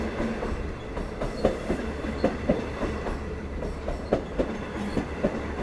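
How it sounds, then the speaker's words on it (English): Long Island Rail Road passenger train of Kawasaki C3 bilevel coaches rolling past at Westhampton, a steady close rumble with rhythmic clickety-clack wheel beats over rail joints, no voices. "Kawasaki C3 bilevel passenger coaches."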